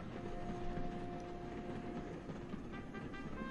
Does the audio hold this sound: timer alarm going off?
no